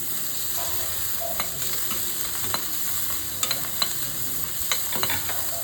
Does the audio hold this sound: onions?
yes